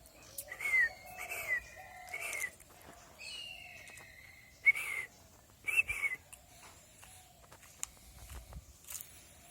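Pet birds calling in the sun, a scatter of bright chirps and whistled phrases repeating in short bursts over nearly ten seconds, fairly close and moderately loud against a quiet background with faint insect-like buzzing.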